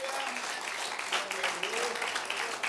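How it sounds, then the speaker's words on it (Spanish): Brief, dense applause from a church congregation during a sermon on fasting, many hands clapping together at a steady level for a couple of seconds. "Den un aplauso al Rey de Reyes y Señor de Señores."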